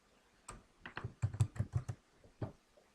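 A computer keyboard clatters as a single word is typed, a quick burst of close, crisp key clicks in a small cluster with a lone final tap, in a quiet room.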